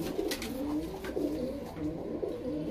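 Several Muradabadi pigeons coo softly in repeated low, rolling calls, close by, over a steady background hum with a few light rustles.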